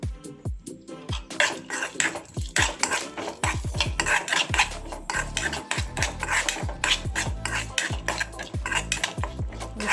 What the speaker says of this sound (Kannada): ಬೆಳ್ಳುಳ್ಳಿ ಪಾಡ್ದು ಒಂದಿತ್ತೆ ಫ್ರೈ ಮಲ್ತೊಂದು ಉಲ್ಲೆ